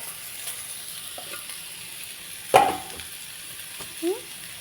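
Vegetables such as cabbage and baby corn stir-fried in a pan, giving a faint, steady sizzle with a sharp utensil knock in the middle and a softer clank near the end.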